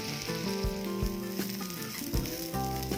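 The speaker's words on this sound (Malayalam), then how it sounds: "നല്ല ചൂടായ എണ്ണയിലേക്ക് നമുക്ക് കോവയ്ക്ക ചേർത്ത് കൊടുക്കാം." Ivy gourd pieces frying in hot oil with curry leaves over a lowered flame give a steady, dense sizzle throughout, with sustained melodic tones running underneath.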